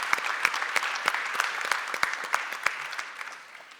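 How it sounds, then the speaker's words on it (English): An audience applauding student moderators at a college event, a steady burst of clapping with distinct sharp claps that fades toward the end. "first I wanted to give a little round of applause"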